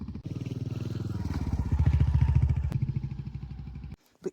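A rented Royal Enfield Himalayan motorcycle rides along, its single-cylinder engine thumping in a rapid, even pulse that swells and then fades before a brief cut-off.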